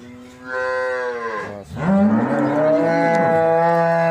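A Holstein Friesian cow moos loudly twice in close succession, a long drawn-out low call followed by a second rising, sustained moo.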